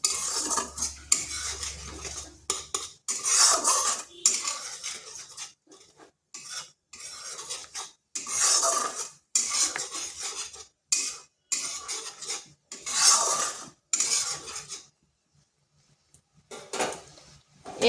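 A spoon scrapes and clatters around a pan in repeated bursts with short pauses, mixing cumin and coriander powder with a pinch of sugar in an oil-free vegetarian dish, close and fairly loud.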